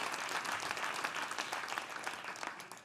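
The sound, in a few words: audience applause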